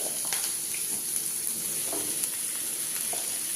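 Chopped onions, three large ones, frying in a pan while cooking a quail egg roast, a steady close sizzle with faint stirring clicks throughout.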